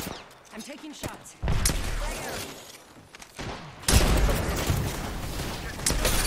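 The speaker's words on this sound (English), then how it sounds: "I'm taking shots" Gunfire in the Apex Legends video game, with bursts of shots and loud booming volleys that grow heavier midway, mixed with game noise and occasional voices.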